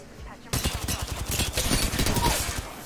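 Mastiff shotgun blasts from Apex Legends gameplay, a dense run of sharp, loud shots and game action starting abruptly after a quiet half second, with someone talking over the noise.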